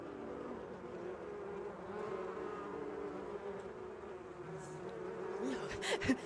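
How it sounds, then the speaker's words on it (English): Bees buzz in a steady, droning hum as a sound effect, moderately close and continuous for several seconds, with a few louder rustling bursts near the end. "the bees are back. It's time for Hive Mind."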